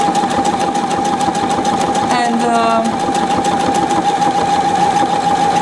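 A Pfaff 720 sewing machine stitches a buttonhole through thick wool, its needle running in a fast, steady loud rhythm with a constant motor whine and a brief strained burst partway through.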